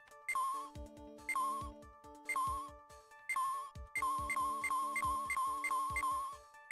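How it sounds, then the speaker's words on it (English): A cell phone rings in the Ace Attorney video game, a repeating electronic ringtone of short melodic bursts that grows into a steady, continuous pattern, loud and alone with no talk over it. "That's a phone."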